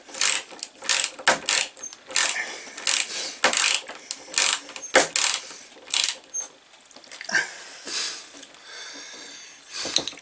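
A small hand screwdriver turns a screw into a wooden child's art easel, giving a series of sharp, close ratcheting clicks in irregular bursts with short pauses between them.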